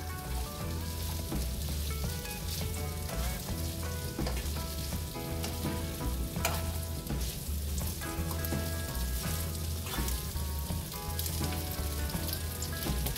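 Food frying in rapeseed oil in a pan, a continuous dense sizzle with crackling pops, close and steady throughout with no talk.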